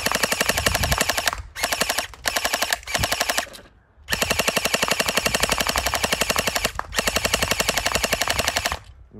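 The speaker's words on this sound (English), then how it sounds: "Here's the gel blaster surge." A Gel Blaster Surge toy blaster fires on rapid fire in loud, fast mechanical bursts, several long strings of shots broken by brief pauses, close and alone.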